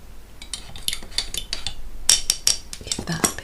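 A spoon clinking against a cup while stirring green tea, a series of light rhythmic metallic taps growing brighter and sharper toward the end, close up and with no talking.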